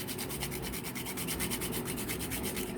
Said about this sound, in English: I'm going to grate a good bit of nutmeg because I want it to be flavorful.